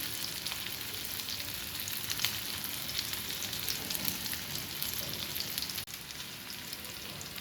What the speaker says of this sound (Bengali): তেল ছিটকিয়ে পড়তেছে